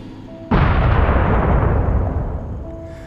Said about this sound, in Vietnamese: Một tiếng nổ lớn đánh sập cái miệng giếng và cả cái điện thờ.